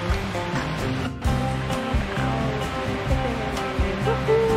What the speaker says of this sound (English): Oh, there's a little waterfall up there